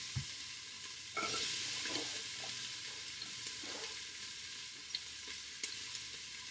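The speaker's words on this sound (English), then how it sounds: "So you kind of stir them up so they're evenly distributed on the bottom of your pan." Carrots and celery stirred in a pan while making chicken noodle soup, with a soft sizzle and intermittent scraping strokes of a utensil, fairly quiet and close.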